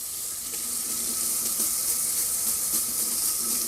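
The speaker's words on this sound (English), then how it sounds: "we can run some water through it later and get it much more clean that way" Kitchen sink tap water runs steadily over a plastic vegetable chopper as it is rinsed, a continuous close hiss of splashing water with faint clinks and no speech.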